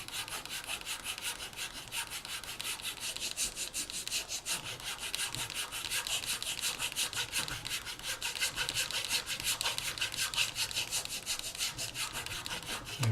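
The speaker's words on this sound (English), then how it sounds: "went with my file first on this edge and started to file away this excess material" A hand file strokes rapidly and steadily across the edge of a 1/350 Ktinga model kit part, removing excess material with a continuous close-up rasping that lasts about thirteen seconds without pause.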